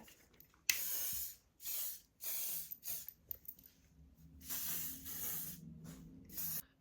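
Several short hissing bursts of an aerosol hair spray, repeated in quick pumps with brief gaps, fairly close and clear.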